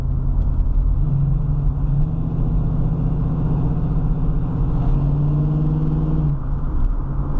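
A 1970 Ford Mustang Coupe engine hums steadily and rises in pitch as it accelerates, its automatic transmission shifting down, with a low rumble throughout and a brief dip before climbing again.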